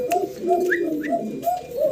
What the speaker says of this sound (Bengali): চমৎকার আরও একটা জোড়া দেখাচ্ছি, টেলমার্ক কবুতর দেখাচ্ছি, অনেকে ফ্যান্টেল বলে, টেলমার্ক ফ্যান্টেল